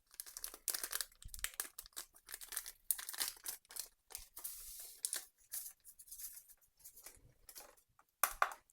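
A paper packet of vanilla sugar crinkles and tears as it is opened, with bursts of close rustling and crumpling separated by short pauses.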